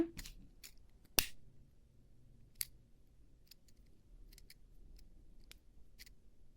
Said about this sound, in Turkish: ipimi kesiyorum burada